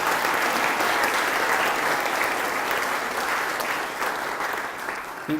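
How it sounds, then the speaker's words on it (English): Congregation at a church thanksgiving service applauding, a dense continuous roar of clapping that holds steady and tapers slightly near the end. "let's give him a clap for that"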